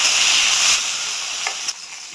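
Tomatoes sautéing in hot oil for a brinjal masala give a steady close sizzle with a soft frying hiss, easing slightly in level partway through, and no voices.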